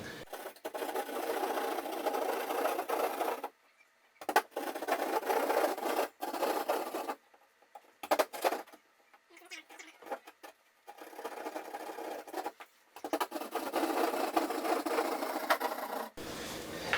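A saw cuts a hole in drywall for an in-wall cable management kit, producing rasping strokes in bursts separated by short pauses, fairly close and moderately quiet.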